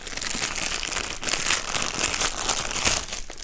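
A plastic bag holding diamond art canvases crinkles and rustles continuously up close as it is handled, loud crackly noise with brief swells.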